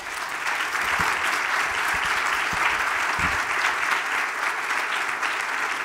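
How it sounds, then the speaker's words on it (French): An audience applauds invited experts at the close of a discussion panel, with dense sustained clapping that stays loud and even from start to finish. "On les applaudit."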